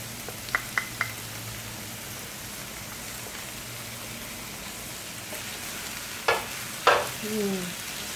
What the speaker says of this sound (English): I'm going to saute my sofrito in here